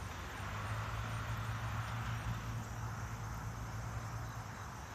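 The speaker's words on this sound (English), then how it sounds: "I hear cars to the right still." Steady traffic rumble from cars passing at a street crossing, a low continuous drone at moderate distance that stays even and slightly fades, with no talking.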